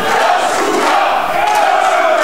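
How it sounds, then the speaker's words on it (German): Wrestling crowd at a live show in Berlin cheering and shouting loudly for their hero, a dense, sustained roar of voices that fills the whole moment. "Das Publikum jubelt für ihren Helden."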